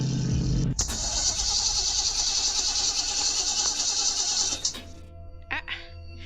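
A car engine in a kidnapper-themed horror video game runs as a loud, steady hiss and drone, then abruptly cuts out as it breaks down, leaving a few faint clunks afterward.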